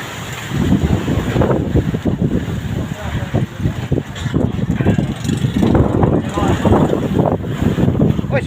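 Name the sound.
strong wind and waves at sea, heard from a boat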